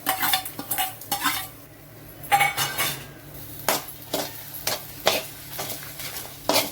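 Roasted mint chutney ingredients tipped back into a pan with the gas turned off make a series of close scraping, clinking stirs of a utensil against the pan in irregular bursts.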